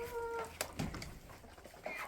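Chickens from a cross of a red naked-neck rooster with Label Rouge hens clucking faintly in short, scattered calls against a quiet farm background, without talking.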